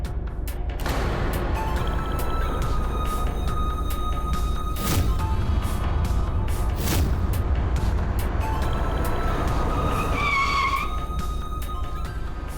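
A car brakes suddenly and its tires skid, giving a long, loud scraping squeal over steady road and engine noise, with a couple of sharp bursts partway through and a rising whine near the end.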